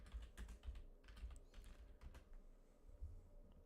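Keyboard shortcuts are typed on a computer keyboard while Burp Suite is in use. Soft, quick key clicks come in an irregular run, close and faint, with no voices.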